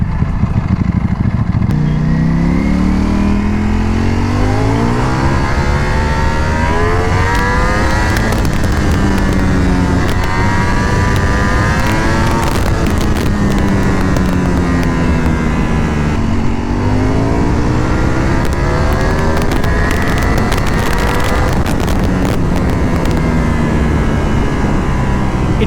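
A Ducati Panigale V4 sport motorcycle engine drones loudly and steadily, its pitch rising and falling through repeated gear shifts as it speeds along the road.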